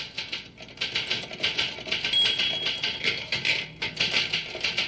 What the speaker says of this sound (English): You think maybe it was being made by this typewriter?